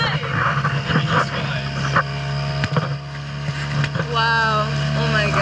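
A steady motorboat engine drones throughout at close range, with water and wind noise and a brief whistling tone near the end.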